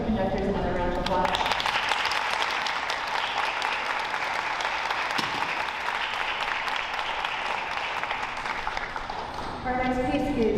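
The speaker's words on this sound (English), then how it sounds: "So can we give our student conductors another round of applause?" Sustained audience applause in a school arts showcase hall honoring student conductors, a dense steady wash of many hands lasting several seconds, with voices faintly audible at the start and end.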